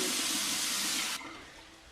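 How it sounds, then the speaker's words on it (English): Hot water running from a tap before a shave, a steady close rushing wash that drops suddenly to a softer flow partway through. "So what I'd like to do is first wet my face with some hot water, as I usually do."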